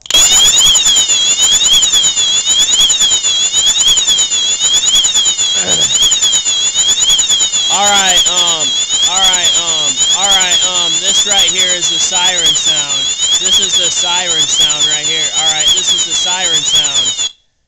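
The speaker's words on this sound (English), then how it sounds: "that was the siren sound" A loud, piercing Wheelock fire alarm siren wails continuously with a rapid sweeping tone, with a voice briefly talking underneath partway through.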